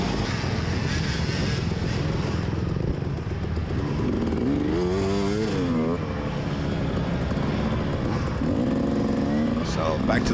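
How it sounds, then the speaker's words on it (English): Mud truck climbing a muddy hill, engine revving hard and tires spinning with a rough, continuous roar and rising whine mid-way, loud and close, with talking over it. "I'm just spinning tire."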